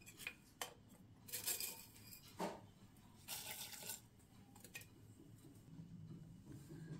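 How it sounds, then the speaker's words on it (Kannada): A pressure cooker lid being closed on a stove, a few metallic clanks and scrapes, one after another, with a clattering pot sound between them, quiet and close with no one talking. "ಲಿಡ್ ಕ್ಲೋಸ್ ಮಾಡ್ತಾ ಇದ್ದೀನಿ."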